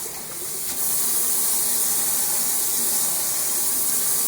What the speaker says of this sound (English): That's a good sprayer.